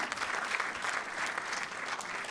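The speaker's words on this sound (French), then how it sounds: "Et bravo, oui, on l'applaudit." Audience applause at an awards ceremony for an innovative building programme, a steady dense wash of many hands clapping throughout, fairly even in level with no voices standing out.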